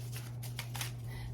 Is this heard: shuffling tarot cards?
yes